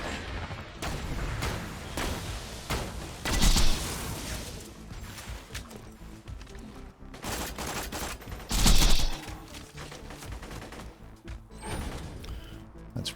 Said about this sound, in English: That's probably what shot me, was that surveyor.